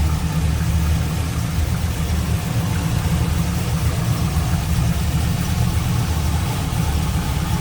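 A 2002 Chevrolet Camaro SS 35th Edition convertible with a 5.7 liter LS1 V8 idles steadily, a deep continuous rumble heard up close and alone.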